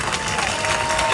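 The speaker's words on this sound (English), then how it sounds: "So, big round of applause to our partners" A crowd at a KC Streetcar Main Street Extension grand opening ceremony applauds in a brief, steady burst of clapping with some faint cheering mixed in.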